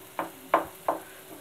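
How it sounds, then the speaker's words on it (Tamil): A ladle stirs yam masala in oil in three evenly spaced scraping strokes, each a short rasp over a low, steady background sizzle. "நம்ம இப்படி கரண்டி வச்சு இப்படி எண்ணெய் பிரிய வர கிண்டிக்கிட்டே இருக்கணும்"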